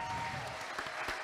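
Faint applause from a crowd, a soft steady patter of clapping heard at a distance for a moment.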